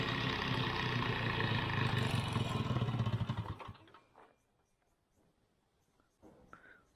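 A long-idle old Mobiljet moped engine, just brought back to life after repair, runs loud and dense for about four seconds, then cuts out, leaving near silence with a few faint clicks and a brief soft noise near the end.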